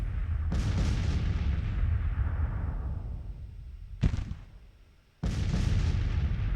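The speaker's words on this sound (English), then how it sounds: "There's all those guns firing." Guns and artillery fire in a Civil War battle game as heavy, booming rumbles, a loud sustained barrage that fades, then a single sharp crack and another big roaring salvo, close and alone without talk.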